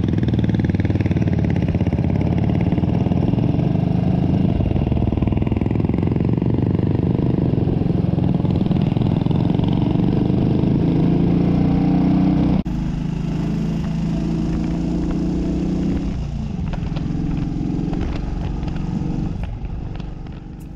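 Big British single-cylinder Velocette-engined Indian Velo 500 motorcycle runs steadily and loud throughout, a continuous low thudding engine note that eases slightly partway through and tails off near the end.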